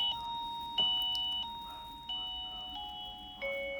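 A HOTATA wireless doorbell receiver plays a series of electronic chime tones, each sustained note stepping to a new pitch every second or so, clear and close with no talking.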